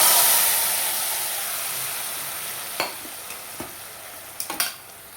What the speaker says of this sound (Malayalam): ഇനി നമുക്ക് ഈ വറുത്തത് ഇതിലേക്ക് ഒഴിക്കാം.